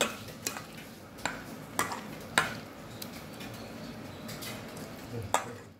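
Scattered clinks and scrapes of a utensil against a metal pot as mutton is mixed with salt, with a few sharper knocks over a soft background.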